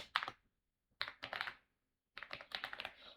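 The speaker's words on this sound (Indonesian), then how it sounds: "Contohnya kita akan ngetik ngasal aja." Quick bursts of typing on a computer keyboard, three separate runs of close, crisp keystrokes with short pauses in between, quiet and with no talk.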